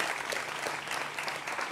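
Steady audience applause fills the short moment at a televised political panel discussion, a dense, even clatter of clapping hands heard at a moderate distance with no voices over it.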